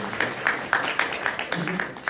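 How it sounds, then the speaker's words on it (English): Sparse applause from a college audience after a business talk, a few distinct claps roughly every quarter second, moderately near with a faint murmur of voices underneath. "Give yourselves a round of applause."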